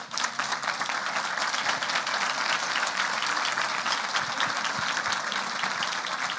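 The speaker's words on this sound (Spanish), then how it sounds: "Espero que hayas escuchado el aplauso porque fue para vos." An audience applauds a speaker, Boris Mir, at the close of an educators' conference session in 2023, with even, continuous clapping at moderate level and no talking.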